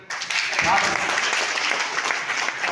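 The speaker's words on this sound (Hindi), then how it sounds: "तो अपनी तालियों से बजाइए कि आप साथ हैं हमारे।" A crowd at a business talk breaks into sustained applause, a thick continuous wash of clapping that rises sharply after a short pause and stays loud throughout, with a voice briefly heard within it.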